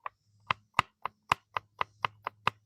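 A knife minces a green onion on a cutting board in about ten crisp, evenly spaced chops, quiet and close with nothing else around.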